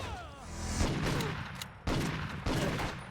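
Golden gun gunfire in the Total Overdose video game, loud and close: rapid volleys of shots in bursts, with a short pause before two more sharp volleys.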